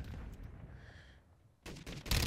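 Automatic fire from an FTAC Siege in a shooter game, a quieter stretch followed by loud, fast bursts of rounds toward the end.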